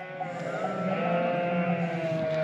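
A lamb bleats in one long, wavering cry close by, with no talking over it.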